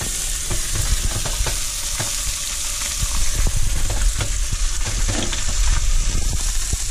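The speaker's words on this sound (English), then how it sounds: "Oh, listen to that sizzle." Steady, crackling sizzle of fish frying in a hot pan, loud and close, with scattered pops and spatters throughout and no talking.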